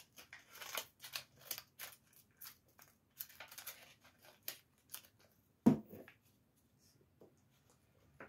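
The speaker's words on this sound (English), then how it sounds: "I'm just going to trim it off now" Scissors trim paper for a paper dragon with a series of short, close, crisp snips in an irregular rhythm, a sharper clack near the end, and then near silence.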